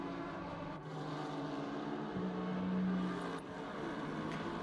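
A newer Aston Martin race car in Assetto Corsa Competizione, a steady engine drone with a held tone that shifts pitch partway through, loud and continuous with no talk.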